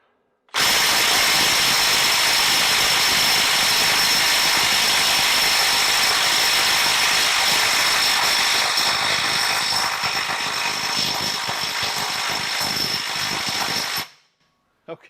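A Milwaukee M12 FUEL Gen 2 stubby 1/2 inch impact wrench on an XC 5.0 battery runs for about fourteen seconds, a loud close continuous whine with rapid hammering pulses that grow more distinct near the end before stopping abruptly.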